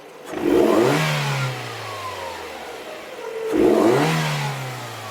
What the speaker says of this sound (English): let's rev up the engine again